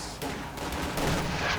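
An MG42 machine gun fires in Company of Heroes 2, a sustained rattling burst of game gunfire that holds steady through the short moment under a faint background.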